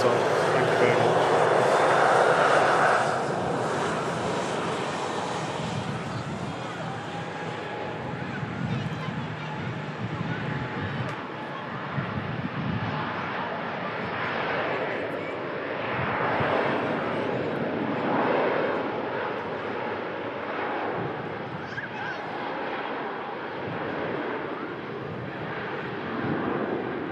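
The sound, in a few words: airplane heard during live plane spotting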